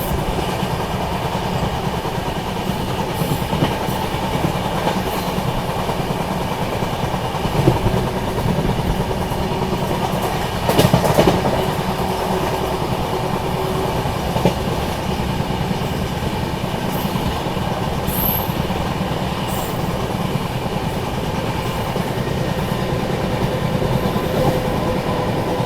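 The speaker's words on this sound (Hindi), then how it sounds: "लगभग 100-105 की स्पीड में चल रही है अपनी गाड़ी।" Barauni–New Delhi clone special express train running at high speed, around 100–105 km/h, heard from on board: a steady loud rumble and rattle of the coach with occasional brief clanks, continuous throughout with no talking.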